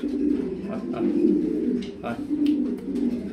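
Big racing grizzle pigeons cooing in a loft, with low rolling coos repeating close by while someone talks over them.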